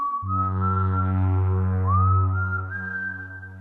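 A clear whistled tone that slides upward and holds, rising in pitch by steps, heard over a low steady hum.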